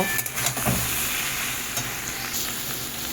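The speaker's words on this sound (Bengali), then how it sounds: "এবার বেশ ভালোভাবে এটাকে নাড়িয়ে চাড়িয়ে হালকা একটু ভাজা ভাজা করে নেব" Eggplant, tomato and green chili stir-fried in a pan in a village kitchen, giving a steady close sizzle with scraping stirs and brief clatters throughout, no talking.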